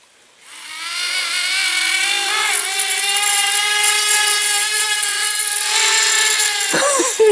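The electric motor of a Blade Inductrix Switch Air R/C airplane spins up from quiet into a loud, steady, buzzing whine, holds close for several seconds, then sputters and cuts out abruptly.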